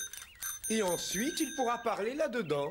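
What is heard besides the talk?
old bicycle bell ringing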